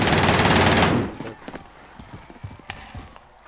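A burst of rapid automatic gunfire from a Call of Duty Warzone gulag fight rattles loudly for about a second, then gives way to scattered lighter clicks, footsteps and small impacts in the game.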